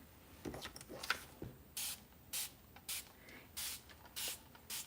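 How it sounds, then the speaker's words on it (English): Several short bursts of aerosol spray paint hiss close by onto paper, evenly spaced with brief pauses between them, against a quiet background. "this time I will spray my paper"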